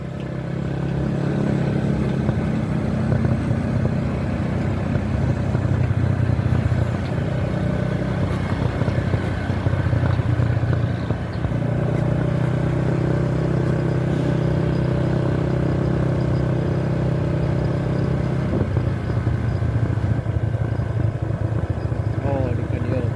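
A motorcycle ride near a toll road construction site, the engine humming steadily with road rumble and clatter for the whole stretch, shifting in pitch now and then, with occasional voices mixed in.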